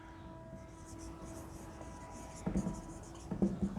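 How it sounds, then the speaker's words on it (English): Chalk or marker writing a paragraph on a classroom board, faint scratchy strokes in short bursts, quiet and close, growing more distinct toward the end. "Let me write one paragraph here."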